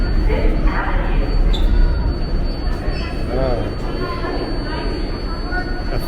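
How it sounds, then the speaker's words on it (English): A Queens-bound 7 local subway train in Manhattan rumbles steadily close by with brief wheel squeals, a continuous loud rail noise throughout. "This is a Queens-bound 7 local train."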